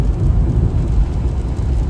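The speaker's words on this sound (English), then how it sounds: "We still have rain" Steady rain drums on a moving van along a grassy roadside, blended with a deep continuous road and engine rumble inside the cabin, loud and unbroken with no talk.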